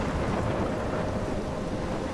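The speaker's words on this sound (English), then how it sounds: "You are in a storm, and a storm." A thunderstorm in the video game Life Is Strange: a steady, dense roar of rain and wind filling the whole stretch, with no distinct thunder crack and no voices.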